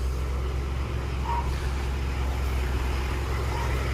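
A Nissan Patrol with an SD33 diesel engine idles steadily after a cold start, its low, even rumble continuing without break at close range.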